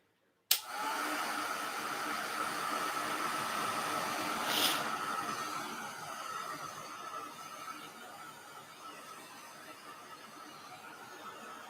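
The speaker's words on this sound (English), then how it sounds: "So I'm going to turn on the heat tool." A heat tool kicks on abruptly and blows a loud, steady hissing roar while drying paint on a metal tag, close by, easing slightly softer toward the end.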